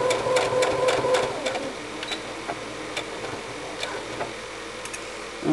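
A sewing machine stitches the end of a martingale dog collar with quick, close ticking bursts over the first seconds, then quieter scattered clicks and handling noise.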